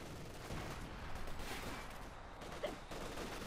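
Machine gun bunkers firing in a Company of Heroes 2 match on the Siegfried Line, a dense, steady wash of distant overlapping gunfire with a slightly sharper burst near the end.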